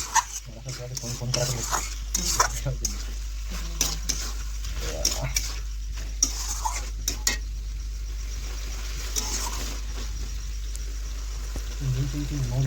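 Water is poured over chicken cooked down in a pot and then stirred through, bringing intermittent spoon clinks and scrapes over a steady low hum, with scattered bursts of sound.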